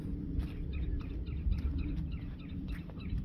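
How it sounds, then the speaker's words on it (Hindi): Morning birds call near a water reservoir, faint repeated chirps and tweets scattered over a steady low outdoor rumble, with no talking. "और ये पक्षी का आवाज़ आप सुन सकते हो।"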